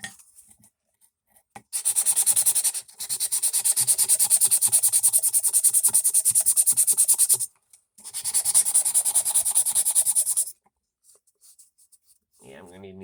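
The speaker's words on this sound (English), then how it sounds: "Yeah, I'm going to need a new piece of sandpaper." Sandpaper rubbed by hand over blades in a restoration, long loud rasping strokes in two sustained passes close up, separated by a short pause, with brief talk at the end.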